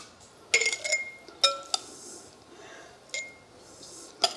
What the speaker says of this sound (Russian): Овощи горячие, буду перекладывать их, конечно, ложкой